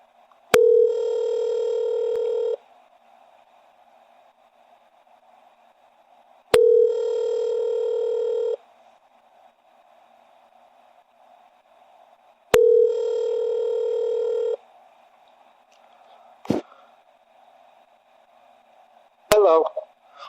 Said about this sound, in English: you'll hear the phone ringing